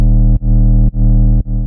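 Distorted synth basses layering a mid bass and a sub bass, played as three loud sustained notes with short gaps between them, with no voices.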